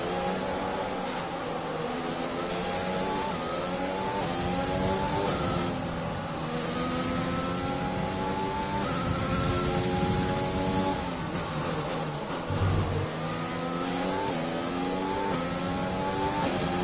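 F1 race car engines from the F1 2020 video game at the Australia Grand Prix rev high and shift repeatedly, rising pitch sweeps stepping up through gears, steady and prominent with no talk.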